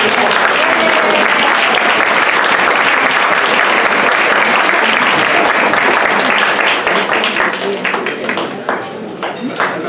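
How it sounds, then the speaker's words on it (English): Loud, sustained applause from a gala crowd at a sustainability event honoring a doctor, dense clapping filling the room for about ten seconds before thinning out near the end. "another round of applause for Dr."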